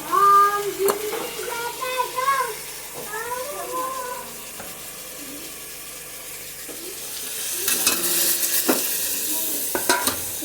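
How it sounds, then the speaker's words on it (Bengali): A spice mixture sizzles in a pan with a little water while a spatula stirs it, scraping and knocking against the metal. Soft wet frying hiss and clatter run throughout and swell louder near the end. "এবার একটু নেড়ে নেব। দেখো থালার মশলাগুলো এখন ঠিক মতন যায়নি, এটাতে একটু হালকা একটু জল দিয়ে দেবো।"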